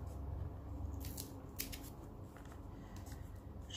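Quiet crisp bursts of paper tearing along punched perforations in short ripping strokes, a few separate tears spaced across the moment, close by.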